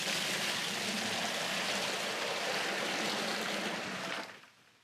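Water poured from a five-gallon bucket into a plastic tote for a rust-removal electrolysis bath splashes in a steady, loud gush that runs for about four seconds, then tapers off as the bucket empties.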